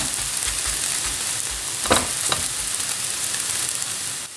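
A crêpe sizzles steadily in a hot pan just after being flipped, a continuous close frying hiss with a couple of brief louder crackles partway through, and no voices.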